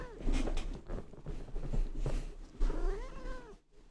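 A cat meows and caterwauls indoors in several drawn-out, wavering cries close to the microphone, with soft shuffling and rustling between calls.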